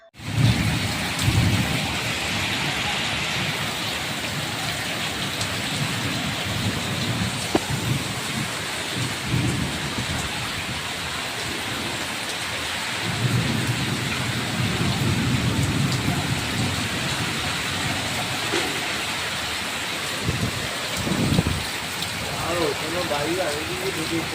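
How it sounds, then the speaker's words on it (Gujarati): Heavy rain pours without pause in Mangrol, Junagadh, a dense loud hiss, while thunder cracks and rumbles roll through repeatedly; voices are faintly audible beneath the storm. "પવન અને વરસાદ શરૂ વીજળીના કડાકા ભડાકાથી લોકો ધ્રુજ્યા"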